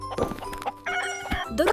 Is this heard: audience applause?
no